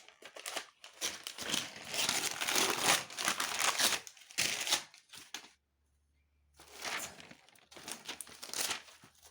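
Close-up crisp paper rustling and scissors snipping through pages in dense bursts, a short silence, then more cutting and crinkling.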